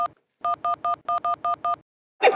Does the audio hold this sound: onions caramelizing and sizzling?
no